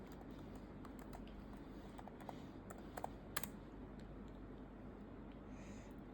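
Someone types a password on a computer keyboard, with light, quiet key taps in an irregular run over a low steady room hum.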